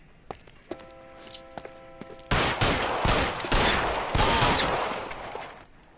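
Gunfire in the video game L.A. Noire, set in 1940s Los Angeles: a few scattered sharp cracks, then a sudden loud sustained volley of rapid shots lasting several seconds before tapering off, with no talking.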